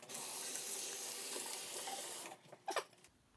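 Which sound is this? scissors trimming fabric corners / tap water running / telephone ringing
tap water running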